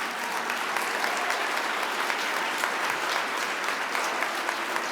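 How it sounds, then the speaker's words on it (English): Loud, dense applause from an audience at a Utah Business awards event for 30 women to watch, a thick continuous roar of clapping filling the whole stretch without pause. "round of applause for that"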